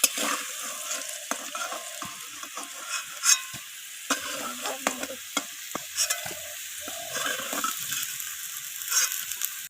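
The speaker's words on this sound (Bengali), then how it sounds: "ওই একই তেলের মধ্যে আমি ফোড়নে দিয়ে দিলাম সাদা জিরে, আর দিয়ে দিলাম দুটো তেজপাতা" Cumin seeds and bay leaves crackle and sizzle in hot oil, with intermittent scraping and clinking of a spoon stirring in the pan.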